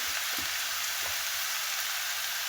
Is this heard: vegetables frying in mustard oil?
yes